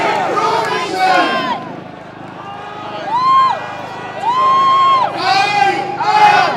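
A large outdoor rally crowd in London roars and chants together in repeated loud surges, voices merging into a dense shout that swells and fades several times.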